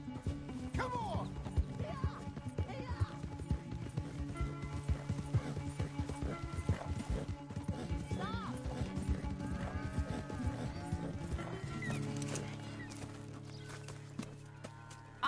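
Horses gallop during a race in Red Dead Redemption 2, with a continuous rapid clip-clop of hooves throughout, a faint neigh, and in-game music playing underneath.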